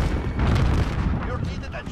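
Gunfire in Call of Duty: Modern Warfare, a multiplayer match where an MP7 is in use, comes as a dense burst of booming shots and impacts over about two seconds, with players talking over it.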